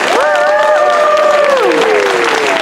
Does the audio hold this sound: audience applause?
yes